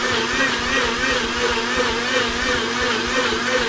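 A countertop ice cream maker churns a cream base for hot-sauce-flavored ice cream, giving off a steady, close motor hum with a constant whirring tone that holds unchanged from start to finish.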